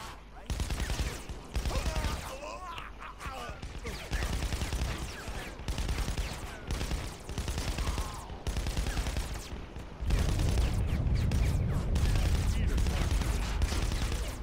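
Gunfire in the video game Saints Row the Third Remastered: sustained rapid bursts and volleys of shots crackle under dense game sound, with a heavier, louder stretch of firing near the end.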